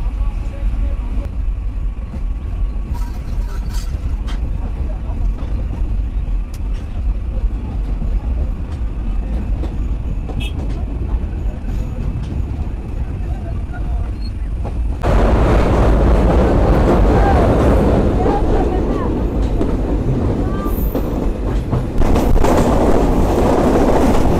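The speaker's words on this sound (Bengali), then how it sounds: "বৃষ্টির মধ্য দিয়ে আমাদের ট্রেন ছুটে চলছে" A Kapotaksha Express passenger train runs between Khulna and Rajshahi through rain, a steady broadband rumble and rattle that grows louder and fuller partway through and continues alone without talk.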